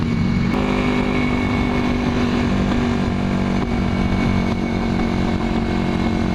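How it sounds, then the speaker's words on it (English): A 1981 Yamaha XS400 Heritage running rich while being ridden gives a continuous, loud, slightly muddy engine drone with steady wind rush, heard close from the rider's position without pause. "she sounds a little on the muddled side, so I'm starting to think that the bike is running rich"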